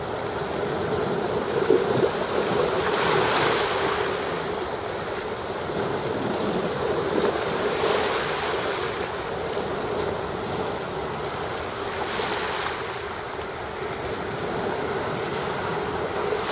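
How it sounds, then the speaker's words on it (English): Broad, continuous rushing surge of a river current pouring out into the ocean at Tin Can Beach, steady and close with wind noise, swelling in a few slow waves of intensity. "That's the surge of a river current. The river waters are flowing out."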